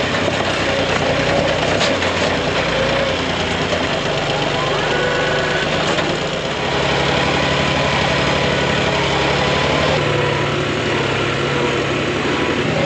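A farm tractor idles steadily with a low, continuous rumble while gathering straw bales, the engine close and constant throughout with no speech over it.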